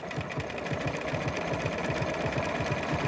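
A domestic sewing machine runs steadily, stitching a blanket-stitch appliqué in brown thread, its rapid regular needle thumps continuous and close throughout with no pause.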